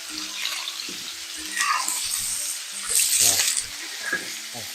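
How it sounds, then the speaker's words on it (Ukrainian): Chicken wings for an Asian-style dish sizzle in oil in a frying pan, a continuous crackling hiss that swells and fades while a person talks over it. "так рівномірно їх обсмажуємо"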